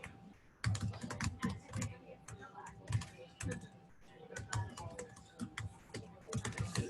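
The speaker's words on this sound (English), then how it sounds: "Typing is hard." Clattering keystrokes on a computer keyboard in irregular bursts of quick taps with short pauses, close and clear, with faint speech in the background.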